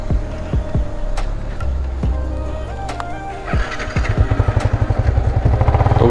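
A Yamaha R15 V3 motorcycle whose engine idles with a rough, clattering pulse and then revs up into a fast, loud, throbbing beat, with no talk.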